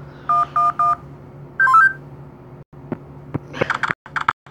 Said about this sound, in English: Let's do a phone call.